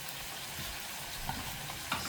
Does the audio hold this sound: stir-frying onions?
yes